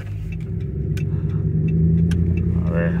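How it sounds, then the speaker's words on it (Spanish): A Hemi 5.7 V8 engine running with a misfire, a steady rough mid-low rumble with uneven pulsing and light revving, close and continuous with no talk. "Si le acelero más fuerte, más rápido lo marca el Misfire."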